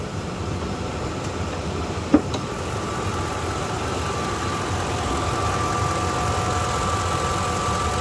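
A 2007 Ford F150 XLT's 5.4-liter engine idles with the hood up, a steady, even drone close by with one sharp click early on and no voices.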